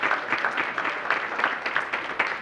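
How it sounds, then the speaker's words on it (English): A seated audience gives a short round of applause before a panel discussion, a brief patter of claps that swells and fades in uneven bursts. "please give them one more round of applause"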